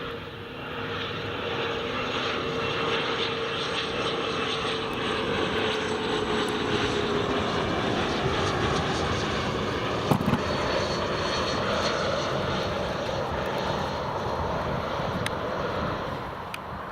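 An airplane doing a touch and go at Newcastle International Airport: a sustained, loud engine roar with wind buffeting, a slowly falling whine running through it and one brief thump midway.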